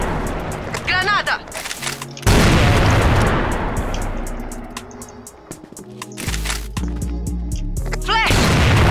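A grenade explodes in the video game CrossFire with a loud, close boom and a long rushing roar that slowly decays, mixed with gunfire and shouting voices.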